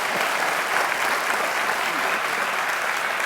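Audience applause on an Indonesian political comedy show, a thick, even burst of many hands clapping close and fairly loud for a few seconds without a break.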